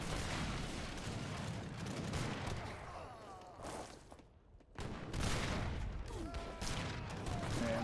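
Booming cannon fire and dense musket volleys in an Age of Empires 3 battle, a continuous clattering barrage of shots near and far with a brief lull in the middle before the firing resumes.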